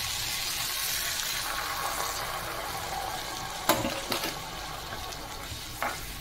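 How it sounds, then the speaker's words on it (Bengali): Water poured into a pan of frying jute leaves gives a steady hiss with a few sharp splashing bursts as it hits the hot pan; no one speaks. "এই পর্যায়ে আমি জল অ্যাড করে দেব।"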